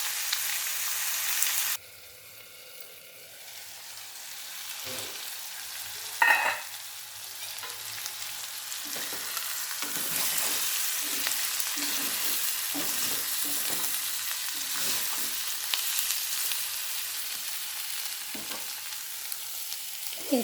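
Vegetables cook under a lid in a home kitchen pan, giving a steady close sizzle with occasional spoon scrapes and clinks, and no one talking.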